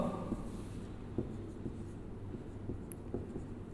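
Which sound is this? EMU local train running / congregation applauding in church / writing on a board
writing on a board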